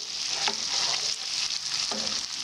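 Onions frying in a pot with spices and bay leaves for a goat meat stew, a continuous close sizzle broken by a few scraping stirs of a spoon.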